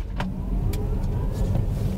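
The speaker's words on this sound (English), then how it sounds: "if you step on the pedal, this thing just accelerates like crazy" A Hyundai Ioniq 5 dual-motor electric car accelerates hard, giving a steady loud whirring drive and road noise with a faint rising motor whine heard from inside the cabin.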